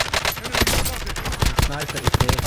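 Rapid automatic gunfire in a multiplayer shooter video game, a dense, loud, continuous rattle of shots filling the whole moment without pause.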